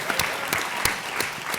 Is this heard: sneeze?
no